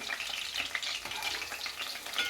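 Brinjals frying in oil in a pan, a steady close crackling sizzle with no voices.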